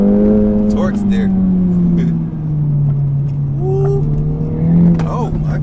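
An Acura Integra Type S engine revs hard on a curvy road, climbing and falling in pitch through several pulls, loud and close inside the car with short bursts of exhaust crackle.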